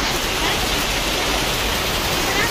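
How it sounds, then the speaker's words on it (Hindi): Heavy rain falls at a railway station in Jammu, a steady, loud, even hiss that fills the whole stretch with no break. "ये देखिए यहाँ पर बारिश लगी हुई है।"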